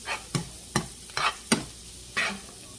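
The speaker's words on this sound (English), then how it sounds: "Saute some more." Vegetables being sautéed in a pan before asparagus is added: repeated stirring strokes, about six brief scrapes and clatters at uneven intervals over a steady close sizzle, with no talking.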